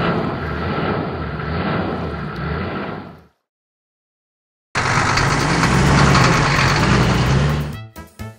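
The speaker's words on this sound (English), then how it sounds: "Water car panther driving." A Panther amphibious water car drives with a loud, steady engine roar, cutting out briefly to silence before returning just as strong and then breaking into choppy bursts at the end.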